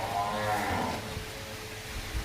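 Buffaloes lowing at feeding time on a farm in the afternoon, a drawn-out moo near the start fading into steady low farmyard rumble and shuffling.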